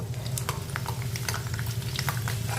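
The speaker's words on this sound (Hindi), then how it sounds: "इसी तेल में अब हम लहसुन और अदरक को भून लेंगे" Garlic and ginger frying in hot oil in a pan, a continuous close sizzle with crackling pops throughout and no voices.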